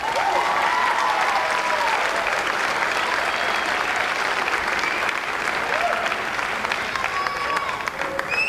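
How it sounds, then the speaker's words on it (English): Sustained applause from a crowd at a senior athletic awards ceremony at Milford High School, a dense steady clatter of clapping filling the room for several seconds, with faint voices mixed in. "two recipients will hold our applause"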